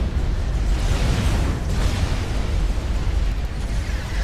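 A loud, rumbling explosion in a 4v4 video game match roars continuously with a broad noisy burst that holds steady for several seconds before easing slightly.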